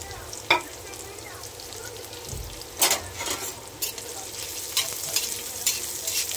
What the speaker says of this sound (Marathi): त्याच्यानंतर मी टाकणार आहे कांदा